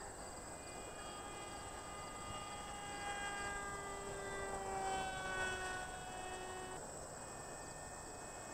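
RC FA-18 model jet flying at half throttle, a faint, steady turbine-like whine holding at a constant pitch, with a slight swell in the middle and no talking.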